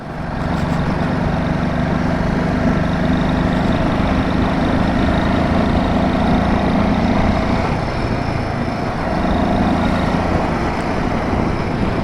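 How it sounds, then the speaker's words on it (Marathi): A motorbike engine labours steadily uphill on the road climbing toward Khardung La pass in Ladakh. The drone is loud, close and continuous, with no break and no voices. "मजा येते रे, काय बाईक पळते यार."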